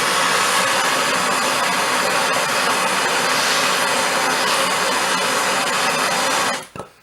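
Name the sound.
blowtorch flame heating a stuck bolt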